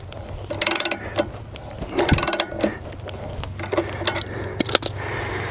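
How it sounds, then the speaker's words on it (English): A car jack ratcheting under a Tesla Model 3 during a spare tire change, with bursts of rapid metallic clicking between pauses and a few sharper clanks, close and fairly clear. "now we're ready to jack the car up"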